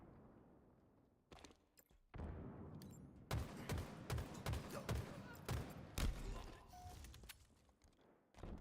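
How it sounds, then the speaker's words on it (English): Video game gunfire as a player shoots a downed body during a shooter match: rapid bursts of shots and booms crackle in overlapping volleys, moderately loud, with faint background voices. "Oh, he's shooting Lucid's body."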